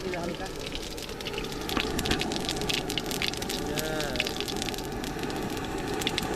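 Spices sizzle in hot oil for a khichuri tempering, a steady dense crackle that runs the whole time beneath people talking.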